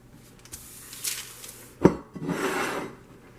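Multi-seed bread dough shaped into a loaf and set into a bread-machine pan: soft rubbing and light scraping, then a single sharp clunk of the pan and a brief rustling shuffle afterward, close and alone.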